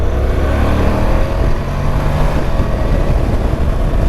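A Honda NC750X DCT motorcycle accelerates with a loud, continuous engine drone mixed with heavy wind rush, close and unbroken throughout.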